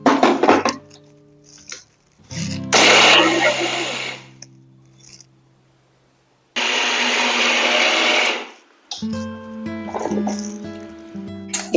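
A kitchen mixer grinder powdering flax seeds with dried red chillies and tamarind, two loud roaring bursts of grinding separated by a pause, with voices talking before, between and after.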